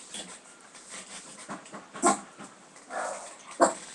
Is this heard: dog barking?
yes